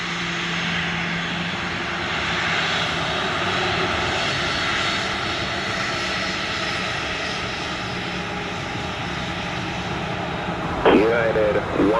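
Airliner jet engines roar steadily through a takeoff at Montego Bay, a loud continuous broadband rumble that holds throughout, with a brief louder burst near the end.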